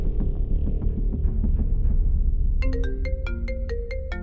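A mobile phone left behind in a house rings with a bright, repeating melodic tone that comes in partway through and sounds loud and close over a low rumbling background.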